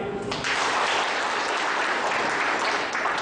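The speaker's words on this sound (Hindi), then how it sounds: "और फीमेल विंग के तरफ से भी ताली।" Female trainees at a teachers training college session in Madhepur, Bihar break into applause, a continuous wash of many hands clapping at moderate loudness from start to finish.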